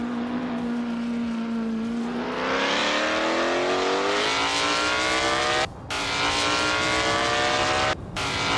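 A 1958 Porsche 718 RSK race car engine drones steadily, then revs higher with a rising pitch, loud and close, with two brief cuts near the end and no talk.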